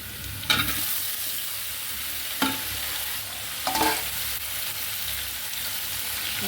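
A vegetable masala curry with boiled carrot and potato, sizzling steadily in a pan while a spoon gives it three distinct scraping stirs, close and fairly loud.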